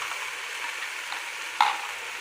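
Yogurt being added bit by bit to a radish curry in a hot pan, producing a steady close sizzle with one brief sharper splash.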